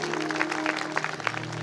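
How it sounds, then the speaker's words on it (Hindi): Audience clapping for mothers at a Hindu religious discourse on the Vishnu Purana, a busy patter of many hands, loud and close, sustained for the whole moment with a low hum beneath. "एक बार जरा ताली बजाएं ऐसी माताओं के लिए।"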